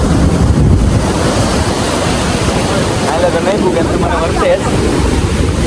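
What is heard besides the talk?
sea waves breaking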